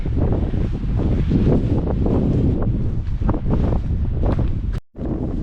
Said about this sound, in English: the wind starts hitting again